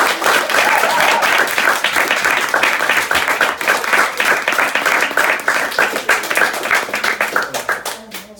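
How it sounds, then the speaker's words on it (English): Audience applause at a manhood rite-of-passage ceremony, dense steady clapping from many hands filling the room, close and loud, tapering slightly near the end with faint voices mixed in. "So everybody give Gavin a round of applause."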